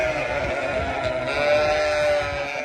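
Fat-tailed sheep (dumba) on a farm bleat in a steady, overlapping chorus of wavering cries at moderate distance, with no voices over them.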